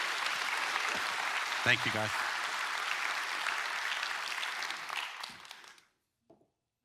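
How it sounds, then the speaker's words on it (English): Conference audience applause at a RISE 2024 session: thick, sustained clapping from a large crowd that fades out near the end, with someone briefly speaking over it. "Give them applause,"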